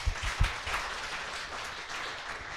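A lecture audience gives a round of applause welcoming a professor to a special talk, fairly faint and distant clapping with a few louder thumps at the start before settling into a soft, even patter.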